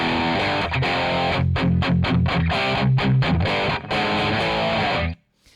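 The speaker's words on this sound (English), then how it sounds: "the usual sound of this distortion tone with the tone knob pushed down and the pickup set at bridge" Electric guitar played through a Zoom G3XN with a distortion rhythm tone, bridge pickup selected and tone knob pushed down, chugs out loud palm-muted chords and stabs with brief gaps, then cuts abruptly to silence near the end.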